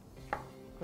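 A 10-inch chef's knife chopping onion on a cutting board, two crisp, close taps spaced about half a second apart against a quiet kitchen background.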